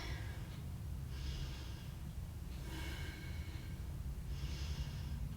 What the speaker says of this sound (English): In and out through the nose.